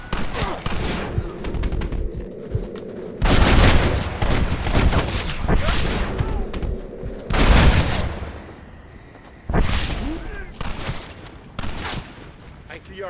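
Heavy gunfire rattles through a video game shootout in loud, dense bursts, with brief lulls between volleys and shouted voices mixed in.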